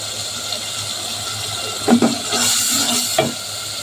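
Chopped onion greens drop into a pan of small mola fish frying in oil, giving a steady hiss with a few brief scraping stir sounds and a swell of sizzle partway through.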